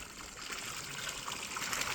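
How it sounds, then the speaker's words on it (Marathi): A 2 HP solar-powered water pump motor runs while water flows and gushes steadily, a continuous hiss with no voices. "तर ही 2 HP मोटर चालू झालेली आहे."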